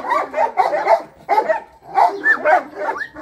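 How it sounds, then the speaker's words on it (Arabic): A fierce fighting-breed dog barks in rapid, close bursts, with several loud barks in a row, brief pauses between groups, and a few higher yips mixed in. "طبعا كلب شرس جدا جدا برضو من ضمن الكلاب المقاتله"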